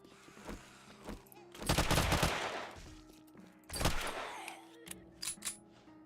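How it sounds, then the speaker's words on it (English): A Mac-10 fires 9mm rounds in 7 Days to Die, with two long loud bursts of rapid automatic fire among scattered single shots and short rattles, clicks and mechanical noises in between. "Our Mac-10 auto is firing 9mm rounds."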